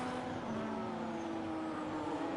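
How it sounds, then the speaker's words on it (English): Race cars in an Abu Dhabi Grand Prix racing video game roar past in a steady, sustained engine drone, a dense continuous whine of several cars speeding by under a safety car period, with no talking. "Okay, cars are flying through."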